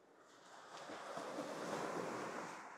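Ocean waves surge and wash right beside a seaside room in Tarawa, Kiribati, as a broad, steady roar that swells gradually louder and then eases slightly, with some wind buffeting and no voices.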